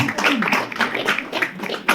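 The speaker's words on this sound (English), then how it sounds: "Brother Somnath, he deserves a round of applause." Audience applause at a community meet-and-greet in New York, honoring organizer Somnath: a steady two-second wash of many hands clapping in a room, evenly sustained with a slightly louder burst near the end, with a murmur of voices underneath.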